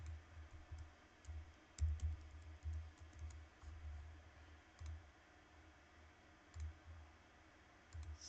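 Computer keyboard typing heard during an online group call, irregular soft clicks and taps in scattered bursts over low background noise, quiet and fairly close, no voices.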